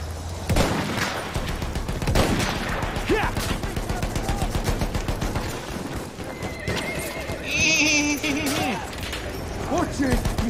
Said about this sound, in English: Enemy horse right! Over there!